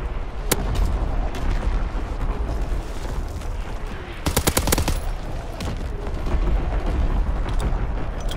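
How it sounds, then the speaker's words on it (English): Artillery barrage in a World War II video game: heavy booms and rapid volleys of shots roll continuously, with a sharp cluster of loud blasts near the middle, all thick and close with no talking. "Artillery ready for orders. Awaiting coordinates. Firing for full effect."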